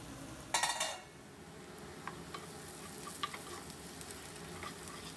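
Onions frying in a pan with turmeric and salt for a dhaba-style paneer dish, sizzling steadily up close after a short burst of stirring at the start, with a few light clinks of a utensil and no talking.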